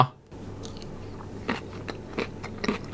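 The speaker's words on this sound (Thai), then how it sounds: "เคี้ยวไปทุกคำมันก็เจอแต่หมูอะอร่อยดีนะ" Close-up mouth sounds of someone eating stir-fried minced pork chili paste with fresh raw vegetables: crisp bites and crunchy chewing in irregular bursts over a quiet background, with no talk.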